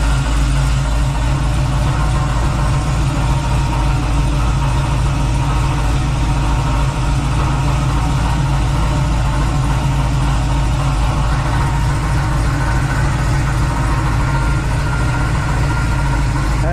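A 1970 Chevrolet Nova engine with a 383 build and blower idles steadily with a deep, constant low rumble and no revving, continuous throughout with no voices.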